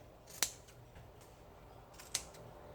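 Scissors snip slits into fabric for a craft project, two sharp separate cuts about two seconds apart, close and clear over a quiet room.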